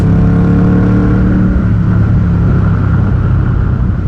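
An Indian Scout cruiser motorcycle engine holds a deep, throaty rumble at high revs, steady and close, with no voices.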